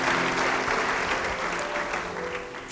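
A church congregation applauds steadily through a sermon break, a dense, even wash of clapping that holds at a constant level from start to finish.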